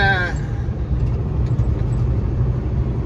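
A Super B train truck passes on a gravel road, heard as a loud low rumble of road noise and engine from inside a 2024 Kenworth T880 cab, with a voice speaking briefly at the start.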